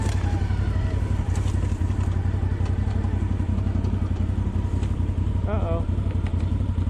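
A CF Moto 800 XC ATV on a ride, its engine giving a steady low rumble throughout, with rattles and jolts from the terrain and a rider talking over the noise.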